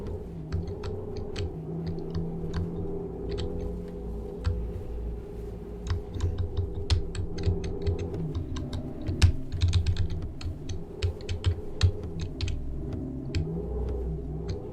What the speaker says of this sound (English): you'll be able to hear the keyboard really clearly because my mic sits next to it